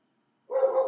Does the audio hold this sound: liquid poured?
no